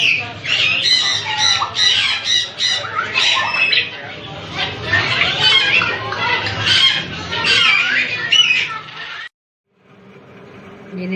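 A pet parrot squawks and chatters in dense, rapid bursts for several seconds, close by, with voices talking under it before it stops abruptly and quiet room noise follows.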